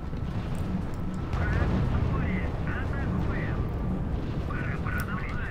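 Massed artillery of thirteen guns fires in the strategy game R.U.S.E., heard as a dense, rumbling barrage of overlapping booms, with faint whistling shells above the roar.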